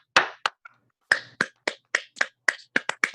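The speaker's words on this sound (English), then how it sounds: "let's give you another round of applause as best we can" Scattered claps from a small online-seminar audience, about a dozen separate sharp hand claps or snaps in an uneven rhythm, close and fairly quiet, with brief gaps and no talk.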